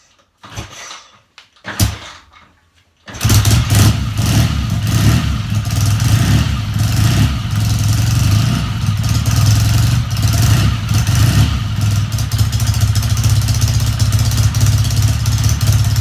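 A BSA A70L Lightning motorcycle engine is kicked over with a few short sputters, then catches and runs loud and close, a steady throbbing idle with repeated blips of the throttle.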